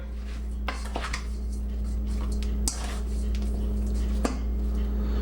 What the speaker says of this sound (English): So I just mix them around, add the spice to it. Let it tumble a little bit.